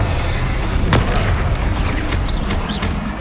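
A Bombarda spell blast in Hogwarts Legacy, one loud close boom near the start followed by a rumbling explosive tail and smaller magical whooshes.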